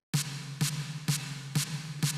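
Function Loops snare sample number 10 triggered by short MIDI notes, five crisp clipped hits at an even half-second pace with a low tonal body, dry and alone.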